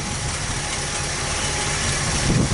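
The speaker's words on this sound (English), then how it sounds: "Just a few pumps and she's fired up." A 1964 Buick Skylark engine catches and runs, a dense mechanical idle with a busy ticking clatter and a low rumble that swells slightly toward the end.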